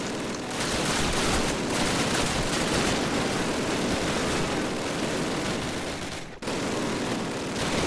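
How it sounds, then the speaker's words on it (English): Sustained, loud machine gun fire rattles almost without pause in a Call of Duty battle, with a dense roar of bursts that cuts out briefly near the end before resuming. "these amazing machine guns"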